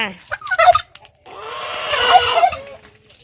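Loud, close turkey gobbling at a rice-field hut in the countryside: a short burst of calls, a brief pause, then a longer rattling gobble that fades out.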